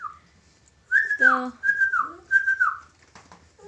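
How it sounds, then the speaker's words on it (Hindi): A man whistles a short melodic phrase of three rising-and-falling notes, close and clear in a quiet room, with a few soft spoken words around it. "पापा जी की सीटी बज गई"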